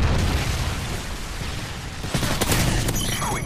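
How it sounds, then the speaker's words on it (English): A Predator missile detonates in a multiplayer shooter video game, a loud, dense roar of blast and crackling debris that fills the whole moment without a break. "Predator missile inbound."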